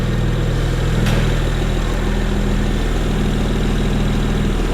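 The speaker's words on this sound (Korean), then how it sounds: "엔진 소리 일정합니다." A BMW 335i convertible (E90 3 Series) engine idles at a steady, even rumble, close and continuous, with no voices.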